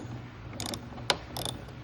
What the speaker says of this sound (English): So I'm twisting this bolt off right now.